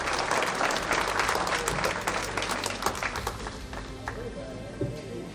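Audience applause at a mayor's New Year address in Saint-Martin-de-Hinx, a dense, steady crowd clapping across the whole stretch that slowly thins toward the end, with murmured voices and a low hum underneath.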